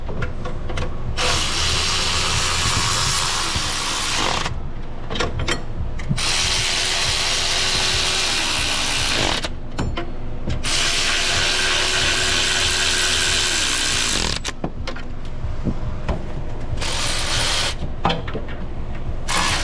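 A power tool runs engine manifold bolts down, whirring loudly in several long sustained bursts with brief pauses between them and ratcheting clatter mixed in.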